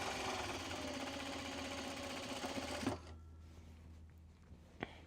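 A domestic sewing machine runs in a steady, fairly loud mechanical whir for about three seconds and then stops. A few faint clicks follow in near quiet, with no speech.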